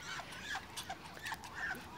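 Ducks squabbling, with repeated short honking quacks and squawks over a steady rustling background, fairly close and moderately loud, with no talk.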